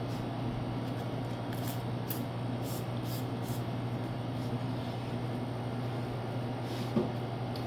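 Car Pro Eraser prep spray comes from a trigger bottle during car detailing in a series of quick, faint hissing spritzes in a loose rhythm over a steady background hum.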